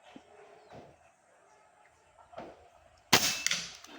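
A PCP air rifle shot strikes a 1-inch steel plate at 51 meters, heard as a sharp crack-like impact after a few faint knocks, followed by a short ringing decay.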